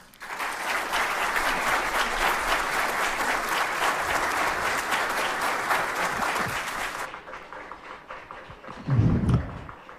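Loud, dense audience applause after a speech at a human rights constitutional reform event in Mexico, sustained for several seconds before fading out, followed by a low thump near the end.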